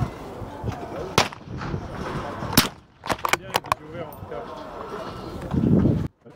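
Air rifle shots ring out at a hunting fair in several sharp, separate cracks, some close together, over a busy background of chatter and crowd noise.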